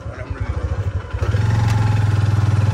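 A motorcycle is parked at Lahooti Picnic Point in Gadap Town near Karachi. Its engine thumps in a quick, even idle rhythm, then steps up into a steadier, louder drone, close by.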